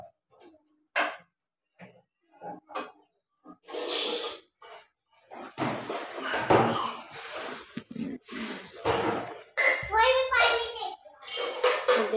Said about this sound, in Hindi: देखिए बर्तन धुलने जा रहे हैं